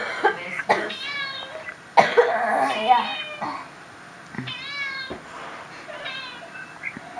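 Several short, odd-sounding cat meows close by, separated by brief pauses, with a cough-like rasp mixed in.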